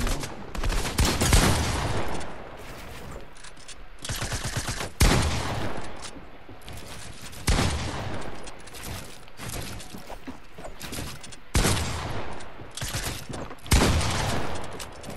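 Gunfire in the Fortnite video game comes in loud, dense bursts of rapid shots that recur every few seconds, with quieter mechanical clatter between them and no talk over the shooting.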